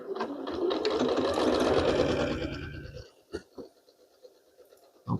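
A sewing machine stitches through an old quilt under repair, running loudly and steadily for about three seconds before stopping, followed by a few brief clicks and handling knocks.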